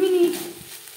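Drumstick flowers being stirred as they fry in a pan over a medium gas flame, a soft sizzle and scraping that fades quieter after the first moments, close and alone with no talk.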